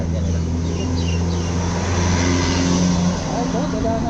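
Cars pass on a road in a steady stream, a loud, continuous engine rumble and tyre roar close by, with people talking over it.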